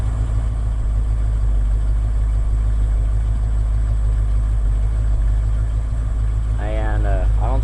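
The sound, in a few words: 1980 Ford F100 truck engine idling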